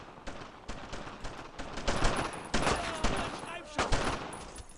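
Rapid bursts of gunfire from the Brothers in Arms: Road to Hill 30 World War II shooter, dense overlapping rifle and machine-gun shots crackling continuously at high volume, with a few brief heavier blasts, over a faint voice.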